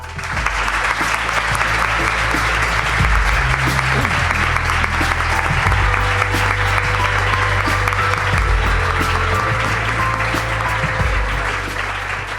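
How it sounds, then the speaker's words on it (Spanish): A large audience breaks into sustained, loud applause, a dense wash of clapping that holds steady for about twelve seconds without pause, greeting a guest welcomed on stage at a talk about space. "Quiero que deis un gran aplauso porque se lo merece"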